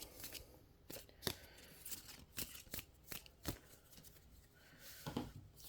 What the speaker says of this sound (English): This gets shuffled.